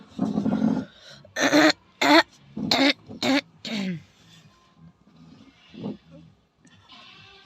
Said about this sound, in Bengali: একটা কাশি উঠেছে এমনভাবে কাশিটা দিয়েছি